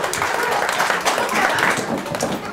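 A birthday party crowd claps and cheers steadily, a lively burst of applause sustained for a couple of seconds.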